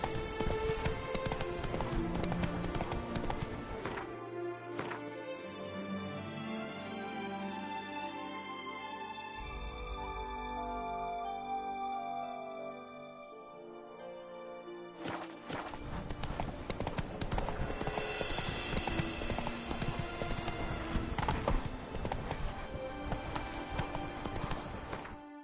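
The horse Roach in The Witcher, hooves clip-clopping at a run, with a quieter slower stretch in the middle before the pounding gallop returns loud and close.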